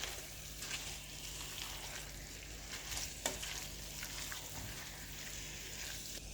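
Dragon chicken with chopped green onions stirred in a hot pan, an even close sizzle running throughout with occasional scrapes and clinks of the spoon, no talking.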